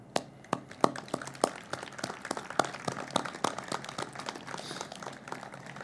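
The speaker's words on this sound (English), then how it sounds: "I just want to applaud him" A small outdoor crowd claps at the 1 October Sunrise Remembrance in Las Vegas, 2020. The applause is sparse and steady, with individual claps standing out at moderate distance and no voices over it.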